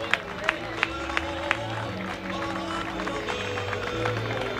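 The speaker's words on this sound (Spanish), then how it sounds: "Un fuerte aplauso, vamos arriba," An audience at an outdoor folk festival pilgrimage applauds steadily, a dense clatter of clapping with a few sharp claps standing out and crowd murmur mixed in.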